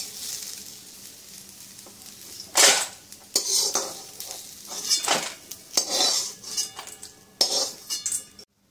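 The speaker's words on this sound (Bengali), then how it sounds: "এবারে আমি উচ্ছেগুলো তুলে নিচ্ছি।" Fried bitter gourd pieces are lifted out of a kadai with a metal spatula for shukto, giving a series of sharp scrapes and clinks against the pan, with a faint sizzle of oil beneath.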